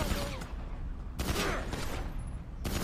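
Gunfire rattles in GTA V in repeated bursts of fusillade, loud and close over a steady noisy background. No one talks.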